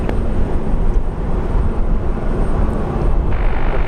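An Air New Zealand airliner departs Brisbane Airport at sunset, its engines a loud, steady, broad roar that holds evenly throughout with no voices.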